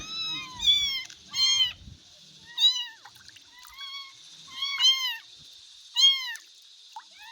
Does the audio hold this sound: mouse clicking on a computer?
no